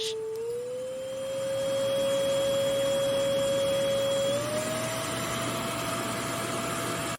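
A FurMe pet grooming vacuum runs quietly and steadily throughout, a soft even motor hum with a faint rising whine, close by and alone with no talk.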